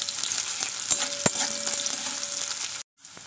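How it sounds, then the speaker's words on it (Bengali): Sliced onion fries in oil with a bay leaf in a pan, giving a steady, even hiss with a few soft utensil taps. The sizzle cuts off abruptly near the end, then resumes faintly. "পেঁয়াজটা একটু লাল করে ভেজে নিতে হবে।"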